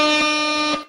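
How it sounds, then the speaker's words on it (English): Air horn sound effect played loud and close: a single steady, harmonically rich blast lasting under a second, with a brief dip in the middle, then cut off abruptly, with no talking. "does it feel like the air horns are extra loud today?"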